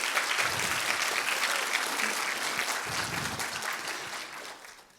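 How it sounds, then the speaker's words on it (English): An audience applauds faculty staff at an evening launch event, a steady crowd of clapping hands sustained for several seconds before thinning out toward the end. "can we give them a bit of applause and thank them?"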